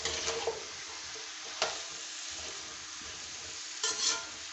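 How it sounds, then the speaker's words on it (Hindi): Grated carrots roast in oil for gajar halwa, a steady close sizzle with occasional scraping clacks of a spoon stirring and turning them in the pan. "पाँच 6 मिनट आप लोगों ने ऑयल में इसको रोस्ट करना है गाजरों को।"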